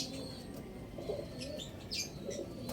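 A young racing pigeon being readied for derby racing gives soft, quiet coos and faint chirps in a calm setting, with light rustling in between.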